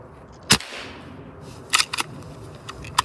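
Hatsan Vectis PCP air rifle with a Huma regulator firing a single sharp, loud crack, followed by softer clicks and mechanical clacks of cycling against a background hiss.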